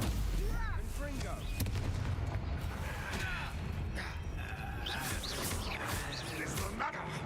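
Fiery Confringo spell blasts crack repeatedly amid a dense, loud battle din in the Hogwarts Legacy video game, with bursts of game voices and effects layered throughout.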